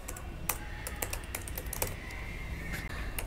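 Steady, quick clatter of keys on a computer keyboard as code is typed, a close run of light taps with a few sharper strokes.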